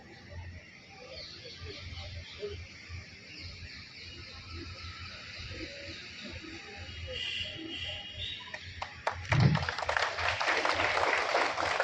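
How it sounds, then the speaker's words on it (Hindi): An audience at a police award ceremony on 15 August breaks into clapping after a quiet, murmuring stretch, the applause swelling suddenly near the end and staying loud and dense to the close. "ताली बजाए, आपको मना नहीं किया गया।"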